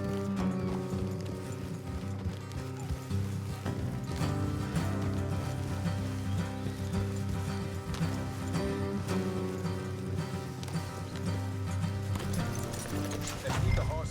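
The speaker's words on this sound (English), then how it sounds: "Let's leave the horses here and go the rest on foot." Horses ride along in Red Dead Redemption 2 with a quick, continuous hoof rhythm, partly buried under a loud, sustained musical score and voices.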